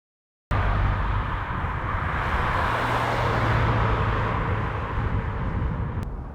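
BMW Z3 roadster on the road, a steady, fairly loud engine and road rumble heard from inside the car, continuous cruising with a slight low hum, no talking.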